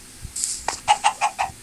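A video-game chicken clucks in a quick run of four or five short, bright clucks, close and clear with no talking over it.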